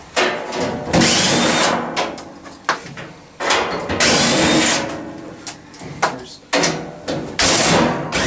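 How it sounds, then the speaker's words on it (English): A screw gun backs screws out of a furnace access plate during a DGAT furnace teardown: several loud, close whirring bursts separated by short pauses, with faint clatter between them. "We'll grab our screw gun here."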